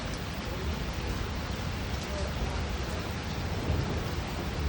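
Storm in Edmonton, Alberta, with thunder rolling as a sustained low rumble under a constant wash of rain, fairly even in loudness across the whole stretch and free of speech.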